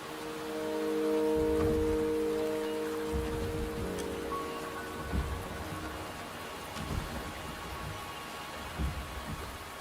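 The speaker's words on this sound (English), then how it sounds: "The rain is subsiding, and the sky will soon clear." Steady rain hissing in a game scene, with a faint low rumble like distant thunder underneath and a soft ambient tone, no voices.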